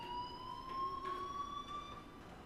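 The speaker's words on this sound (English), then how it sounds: "Hey, do you hear that fire alarm?" Fire alarm in the Life is Strange video game, a steady high electronic tone ringing continuously at moderate, slightly distant volume with no speech over it.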